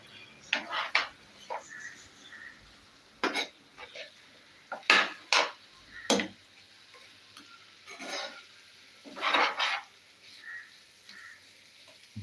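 Small onions are stirred in a pan for a tea-shop style chicken curry: irregular scraping and clinks of a utensil against the pan over a faint sizzle, close and without talk.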